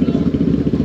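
Many motorcycle engines putter and rumble close by in a steady, throbbing drone.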